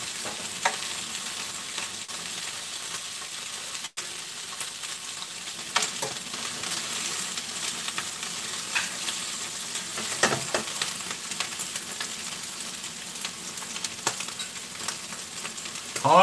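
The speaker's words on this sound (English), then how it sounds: "So all we're doing is browning the liver off." Liver browning in a hot frying pan for a liver and bacon dish, a steady close sizzle and crackle running throughout with occasional stirring scrapes and no talk.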